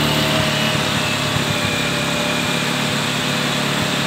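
Toyota Avanza 2015 engine held at steady revs, a continuous even hum with a faint high whine, close and loud with no talk.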